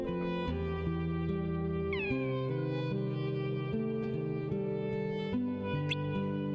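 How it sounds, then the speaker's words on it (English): A cat in the video game Kingdom Hearts II Final Mix gives two short rising meows over a bright looping game music track, one near the start of the melody and another, thinner cry toward the end. "And it meowed loud enough audibly that we could probably all hear it."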